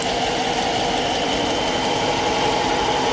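A 5.7 liter V8 Hemi in a 2015 Dodge Charger R/T idles steadily at close range, a dense even rumble with faint knocking, and no talk over it.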